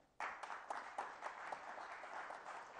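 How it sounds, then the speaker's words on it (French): Faint audience applause starts abruptly after a brief quiet and continues steadily, with individual claps standing out in an otherwise dense patter. "On applaudit nos amis"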